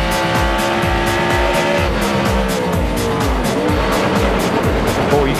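A NASCAR stock car at Watkins Glen in 2009 chatters with rapid, rhythmic wheel hop under braking into turn 10, a loud engine roar pulsing throughout with tire noise, close and continuous.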